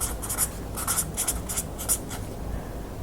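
Pen scratching on paper during a storytelling workshop, a series of short, close strokes in quick bursts with brief pauses, no talking over it.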